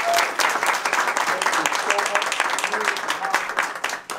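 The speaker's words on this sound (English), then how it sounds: "please give a big round of applause" Crowd applause at a community conversation event on education at Chicago State University, a full, steady burst of many hands clapping throughout, loud and continuous.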